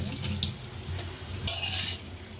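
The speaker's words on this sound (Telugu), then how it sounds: "జస్ట్ కొంచెం నీళ్ళు చిలకరిస్తాను" Light splashes of water sprinkled over food in a pan, with brief patters near the start and middle, while soft clattering stirring continues throughout.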